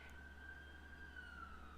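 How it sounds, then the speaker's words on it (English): A siren passes faintly outside, a thin wailing tone that holds and slowly bends in pitch, distant under a steady low background hum. "I don't know if you heard that siren"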